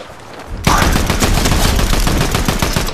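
Dense rapid gunfire bursts out abruptly in the video game Unreal, a loud continuous stream of automatic shots close up with no clear speech over it.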